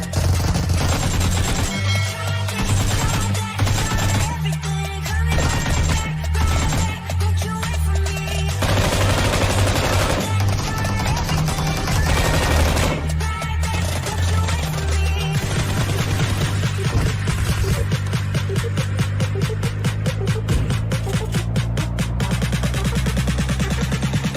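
Rapid video game gunfire, bursts of automatic weapon fire and single shots in a first-person shooter match, loud and nearly continuous over a steady musical background with no speech.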